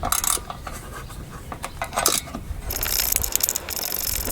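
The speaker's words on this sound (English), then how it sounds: "Take off the two T30 screws on the bumper base mount on each side." Metal clicks and ratcheting taps ring out as T30 screws come off a bumper base mount on a 1999–2007 Skoda Fabia Mk1, close and irregular, with a steadier hiss in the last part.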